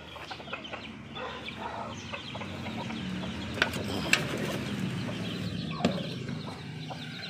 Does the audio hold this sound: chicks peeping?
yes